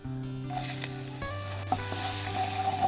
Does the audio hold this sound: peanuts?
yes